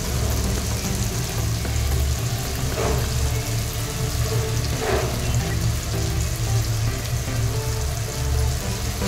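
Onion, tomato and Everest ginger garlic paste fry in a pan for a shahi matar paneer biryani, a steady dense sizzle close and loud over a low rumble, with a couple of faint stirring scrapes and no talking.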